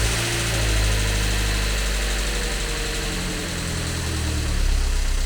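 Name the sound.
Mazda MX-5 engine running with automatic gearbox engaged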